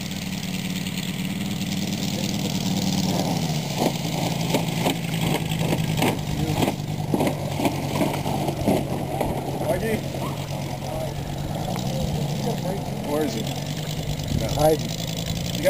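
RC model Corsair airplane engine at three-quarter throttle, a steady buzzing drone heard from a short distance with a slight pitch rise toward the end, while people talk over it.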